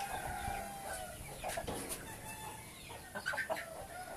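A poultry shed holding about a thousand to twelve hundred hens and roosters fills with overlapping clucks and squawks, with a rooster crowing amid the flock, moderately close and continuous.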